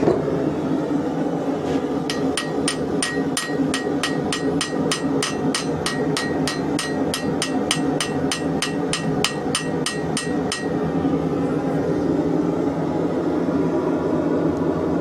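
A steady run of roughly thirty quick hammer strikes rings on thin steel over an anvil, close and bright, then stops abruptly, leaving a low workshop drone.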